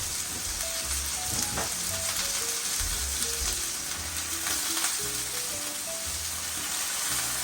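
Oil sizzles steadily in a pan while stuffed peppers are cooked, with a continuous broad crackling hiss running close and loud from start to finish.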